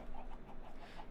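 Minecraft chickens cluck softly in a dim cave-like space, a quick series of short, faint, rhythmic clucks over about a second.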